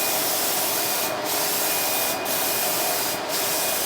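A spray gun lays Sherwin-Williams Emerald paint onto cabinet doors with a steady, loud hiss. Three brief bursts sit on top of the hiss, evenly spaced about a second apart, and no one speaks.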